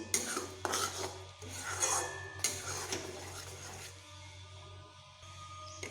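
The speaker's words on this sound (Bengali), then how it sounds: "নুন মিশিয়ে আরও একটু আমি নেড়ে নিচ্ছি" Ridge gourd curry with salt stirred in a pan, giving soft repeated scraping and rubbing of a spatula against the pan bottom, close and fairly quiet, with brief pauses between strokes.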